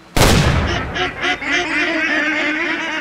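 A flock of ducks in the hunting game Way of the Hunter erupts after a sudden loud burst, a chorus of honking quacks continuing close by and fairly loud.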